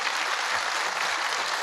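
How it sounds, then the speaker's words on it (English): An audience at a defence technology conference applauds the event team, a dense, even burst of clapping from many hands sustained throughout. "Let's applaud really loudly for the team that has done this event."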